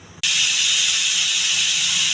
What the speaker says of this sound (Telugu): సారీ అండి, పప్పు విజిల్ వచ్చింది.